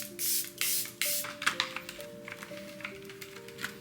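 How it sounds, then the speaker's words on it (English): Tillbury Airbrush Flawless Setting Spray misted from a bottle in a makeup routine: a few short close hissing bursts, followed by light taps and rubbing with a soft faint tone underneath, no talking. "I like to go in with the Airbrush Flawless Setting Spray by Tillbury"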